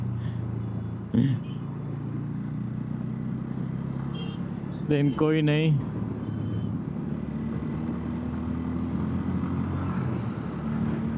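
City traffic in Prayagraj heard from a moving motorcycle, a steady engine and road drone with wind, short horn honks from nearby vehicles and a brief passing whine, while a rider talks briefly.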